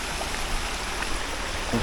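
Steady, broadband rushing of a river flowing continuously nearby at a campsite in Tanay, Rizal, with no voices.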